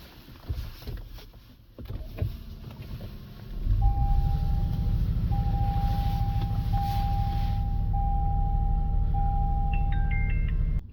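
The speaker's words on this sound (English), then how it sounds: "Now let's go ahead and start up the vehicle." A car engine cranks and starts after some nearby clicks and handling noises, then settles into a steady low idle, while a repeating electronic beep sounds over the running motor.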